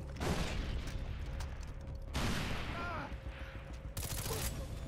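Gunfire in the Far Cry 3 video game, several sharp loud shots spaced a couple of seconds apart amid dense combat noise.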